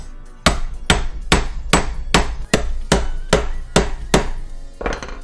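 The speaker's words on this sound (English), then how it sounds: "I get out my chisel real fast." A steel chisel is driven into material with a hammer, about ten sharp, evenly spaced strikes in a loud, close sequence with no talking.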